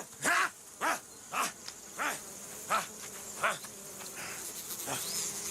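Flies buzzing close by in a series of separate passes, each a short rising and falling whine repeated about every half second, ending in a steadier drone, with no talking.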